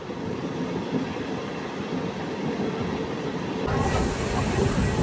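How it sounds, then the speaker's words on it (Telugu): Udaya Express on the Visakhapatnam–Guntur route rushing past on the adjacent line at Gullipadu station, a steady loud rumble and hiss that swells louder toward the end. "పక్క లైన్లో ఉదయ ఎక్స్ప్రెస్ అయితే వెళ్ళిపోతుంది విశాఖపట్నం గుంటూరు"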